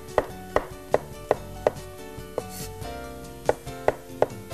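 A knife slices fresh mushrooms on a wooden cutting board in a steady, evenly spaced rhythm of crisp, close chops with a short pause midway.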